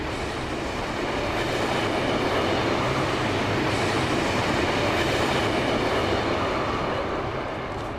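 Trains rumble steadily through New York's underground tunnels, a dense, continuous roar of rolling cars and wheels on rails with no letup, loud and close throughout.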